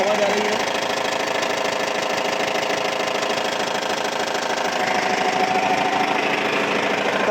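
Maruti S-Cross 1.6 diesel idling with a gear and clutch noise fault, a steady close engine hum with a fine, continuous knocking rattle running unbroken throughout.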